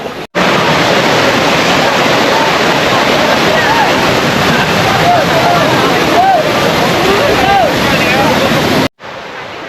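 Anantagiri waterfall in the Araku Valley hills rushing continuously, a loud dense roar of falling water heard up close that holds steady and then cuts off abruptly near the end.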